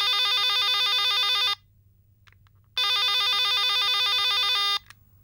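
A telephone rings with a loud electronic trill in two long bursts separated by a pause, alone without talk, in a Tamil TV drama home scene.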